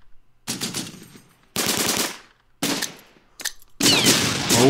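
Machine gun fire from an SdKfz vehicle in the Close Combat wargame, four loud, close bursts of rapid automatic shots separated by short silences.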